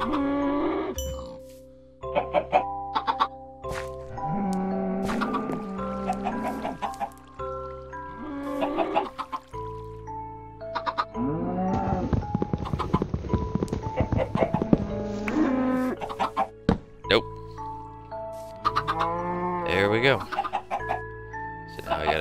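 Chickens in Minecraft cluck repeatedly in short bursts, near and fairly loud, with game music tones sustained underneath and other farm animal noises mixed in.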